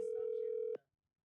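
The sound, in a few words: phone call ringing tone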